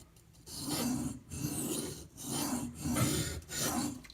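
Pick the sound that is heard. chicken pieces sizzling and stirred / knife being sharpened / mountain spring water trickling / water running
knife being sharpened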